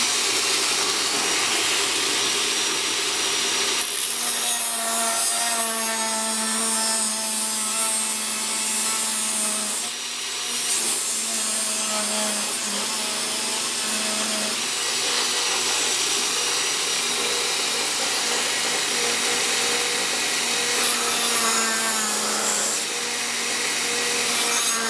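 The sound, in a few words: Dremel rotary tool cutting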